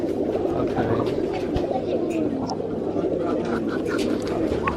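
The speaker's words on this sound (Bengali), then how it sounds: "এটা একটা নর কবুতর" A male Motiwale pigeon imported from Kuwait coos in low, continuous rolling murmurs close by, steady throughout with no talking.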